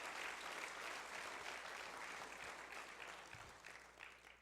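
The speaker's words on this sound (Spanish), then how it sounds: "Dale fuerte ese aplauso a Él." Church congregation applauding during a sermon, a sustained mass of clapping from many hands at a distance, quiet overall and tapering slightly toward the end.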